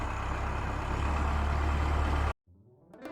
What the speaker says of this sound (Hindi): कहकर उस ट्रैक्टर में घर गया।